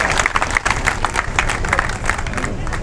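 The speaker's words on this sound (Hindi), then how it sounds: "एक बार एमडी साहब के लिए पुनः जोरदार तालियां से हम लोग अभिनंदन करेंगे" An audience claps loudly at a bank branch reopening ceremony in Jind, with dense clapping and a crowd murmur mixed in throughout.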